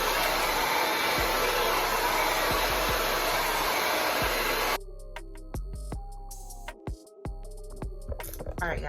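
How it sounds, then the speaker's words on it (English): A Bird Pro blow dryer runs loud and steady while drying natural hair, a continuous close whoosh that cuts off about halfway, leaving handling clicks and rustles. "I'm using my favorite blow dryer, which is the Bird Pro"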